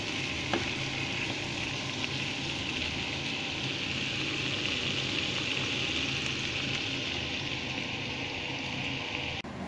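Shrimp and leeks frying in a pan while being stirred, a steady bright sizzle that stays even and close throughout, with occasional soft scrapes and no voices.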